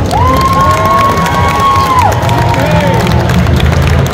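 A crowd at a Star Wars catwalk show at Comic Con France 2025 cheers and applauds steadily, with a high whistle-like whoop rising above the dense, loud roar for a couple of seconds.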